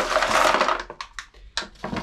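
Pieces of collected sea glass rattle and crunch inside a container on a beach at Hastings, first as a dense shaking burst and then in a few short separate rattles, close and fairly loud.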